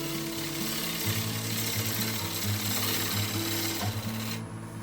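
Wood lathe spinning a cracked plum wood bowl blank while a push cut refines the shape, giving a steady mechanical whir with low rhythmic tonal hum and continuous scraping hiss, close and alone, ending abruptly.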